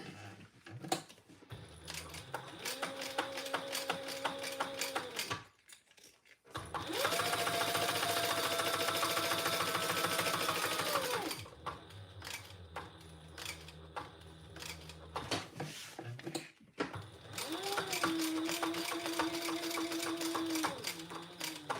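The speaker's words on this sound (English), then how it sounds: "I am going to back stitch over the ends of my zipper" A sewing machine back stitches over the ends of a zipper in three separate bursts of rapid, whirring needle strokes, the middle run longest and loudest, with short pauses and quiet handling between them.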